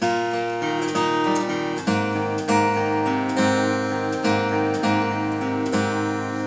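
Guitar chords from the intro of a song ring out fully and sustain into one another, a full, continuous strummed sound with no damping and no talking.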